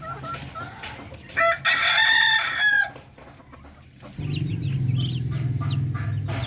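Darag native chickens on a farm: a rooster crows loudly and close once, then hens cluck and chatter steadily over a low background hum.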